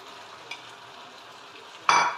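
Chopped onion goes into a pan of rooster pieces cooking for rooster with wine and mushrooms; a faint sizzle and a small clink give way to a sudden loud burst of frying near the end.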